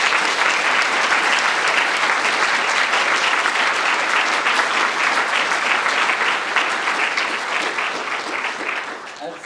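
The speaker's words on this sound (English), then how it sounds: "So can you please give them a wonderful round of applause?" Sustained audience applause at a keynote panel on Australian policy, a dense even wash of clapping from a large crowd that fades slightly toward the end.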